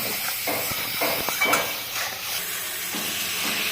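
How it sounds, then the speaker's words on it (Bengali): Salt, turmeric and sugar sauté in oil in a pan for a tangy boroli fish curry, a steady soft sizzling hiss with a few faint stirring scrapes and knocks, close and continuous throughout. "দিয়ে ভালো করে কষাবো"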